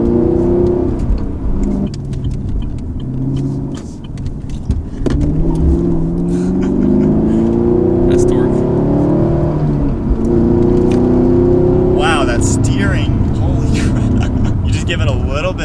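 A Chevrolet Camaro SS accelerating through a turn, its engine holding a loud, steady drone that climbs in pitch. A person talks over it throughout.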